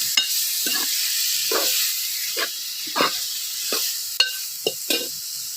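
Tomatoes and coriander sizzle in a hot pan while being mixed, a steady frying hiss broken by several scraping stir strokes, close and fairly loud.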